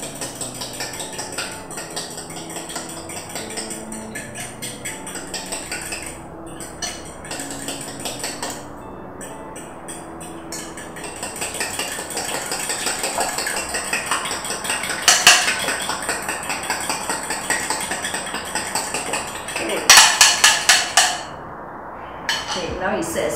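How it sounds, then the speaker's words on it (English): A whisk beats an egg mixture with pinches of salt and corn flour for egg foo young, clattering steadily and briskly against the bowl for a long stretch, with occasional louder clinks near the end. "And you whisk it."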